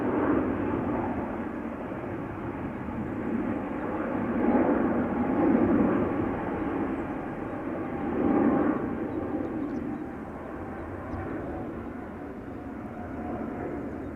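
A China Airlines jet departing Amsterdam Schiphol for Taipei gives a steady, broad engine roar that swells and fades gently over several seconds, heard from a distance outdoors without talk.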